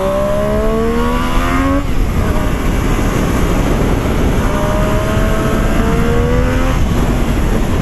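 A Triumph Street Triple 765 RS motorcycle accelerating hard, its engine note climbing through the revs, briefly dropping at a gear change, then pulling up again. The sound is loud and continuous, with steady wind rush underneath.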